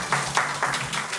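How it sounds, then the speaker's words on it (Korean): A student audience at a university meeting with a Seoul mayoral candidate breaks into short applause, a few seconds of moderately loud, evenly paced clapping from a small crowd. "큰 박수 부탁드립니다"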